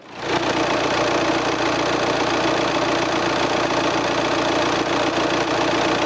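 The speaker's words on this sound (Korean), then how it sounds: "정말 규칙적인 디젤 사운드가 들리고 있습니다." With the hood open, a family SUV's diesel engine idles close by, a loud, steady, even clatter with regular knocking pulses and no talk over it.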